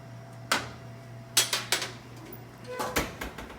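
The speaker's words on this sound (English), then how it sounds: "I'm going to take it out of the oven" Baking dish of branzino fillets coming out of an oven in a restaurant kitchen: a few sharp clanks and knocks of metal and ceramic against the rack and counter, spaced unevenly, with no voice.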